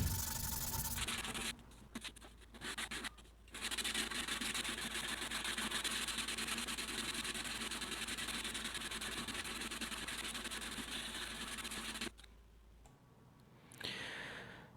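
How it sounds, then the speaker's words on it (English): A scrap-metal axe blade being sharpened by hand, a continuous broad abrasive rasping that runs steadily for about eleven seconds with a few brief pauses, close and fairly loud, without speech. "I'm going to go ahead and kind of sharpen this by hand as much as I can before welding"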